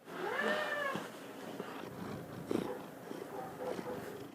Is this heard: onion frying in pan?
no